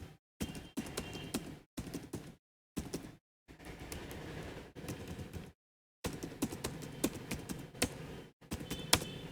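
Numbers being typed on a computer keyboard into a spreadsheet, bursts of quick close key clicks separated by brief pauses of silence, with no speech.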